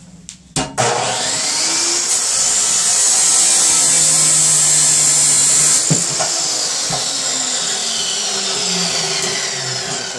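Metal piece for a go-kart build being cut with a power tool, a loud sustained high-pitched whine and hiss lasting most of the clip after a few sharp knocks at the start, then winding down near the end.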